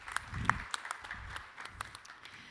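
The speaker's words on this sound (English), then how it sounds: "A round of applause for PickWibe." Applause from an event audience after a startup pitch at a founders' competition, a modest, fairly quiet patter of clapping with a few sharper claps standing out, thinning over a couple of seconds.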